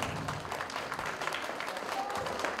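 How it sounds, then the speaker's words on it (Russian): An audience applauds steadily to welcome a strip dance act, a dense, continuous wash of clapping at moderate distance with a faint voice mixed in. "Встречайте их невероятно громкими аплодисментами."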